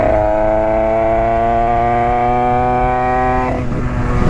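A Derbi 80cc motorcycle with an AC Développement 80 exhaust and Italkit, revving loud and close in a sustained high, buzzy two-stroke wail, then dropping off and picking up again near the end.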